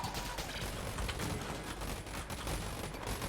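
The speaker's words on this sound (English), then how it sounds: "you pull the trigger and the entire room gets destroyed" Dense, continuous gunfire fills a room in Enter the Gungeon, a multi-shot weapon firing bouncing cactus-fruit shots that set off more shots, a steady rapid clatter of blasts and mechanical noise with no gaps.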